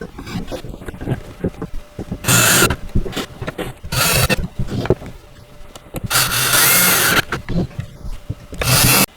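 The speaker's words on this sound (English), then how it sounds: "So let's get all these bolts screwed in." Power drill driving bolts into a wooden Badger Basket Retro Diner and Kitchen doll playset (model 12029), with two long loud bursts of whirring and shorter clicks and handling knocks in between, close by.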